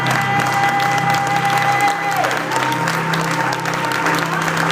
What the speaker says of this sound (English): Baby, if I were you, I would be clapping until my hands got strong.